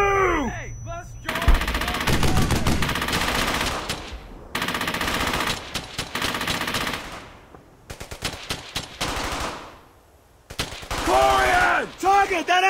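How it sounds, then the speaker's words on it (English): Bursts of MG-42 machine gun fire in the video game Brothers in Arms: Hell's Highway, loud rapid volleys repeating across the scene with short pauses between, amid other gunfire and battle noise. "That MG-42!"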